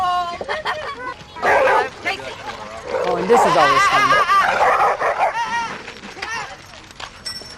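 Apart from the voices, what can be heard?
dog barking and whimpering at a dog park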